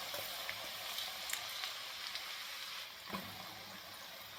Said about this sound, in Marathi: हा बदाम फ्राय करून घ्यायचा आहे.